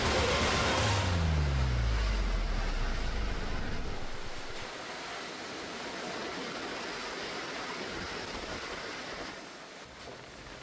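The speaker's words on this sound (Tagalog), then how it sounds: "Malakas na hangin at ulan ang bumungad sa mga residente ng Masbate" Typhoon Opong brings strong wind and rain to Masbate as a continuous loud roar of rushing wind and hissing rain. A brief low tone sounds at the start, with no talk.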